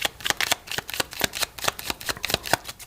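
Affirmation cards from a tarot-style deck shuffled in quick, crisp riffling bursts, a steady run of papery flicks close up and alone with no voices.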